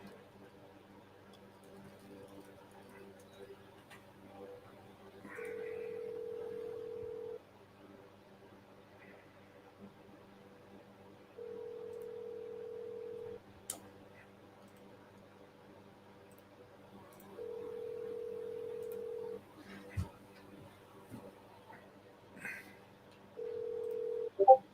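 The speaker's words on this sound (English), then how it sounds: "I'm trying to get dude back on the phone for a minute." A phone call to a seller goes unanswered: a quiet line carries repeated steady ringback tones, each lasting about two seconds with long gaps between, plus a few faint clicks, and no talk over the tones.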